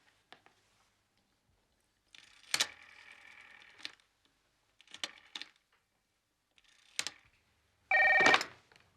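An old-fashioned telephone in a British sitcom scene gives separated bursts of bright ringing and clicking across several seconds, ending in one loud, close ring against an otherwise quiet room.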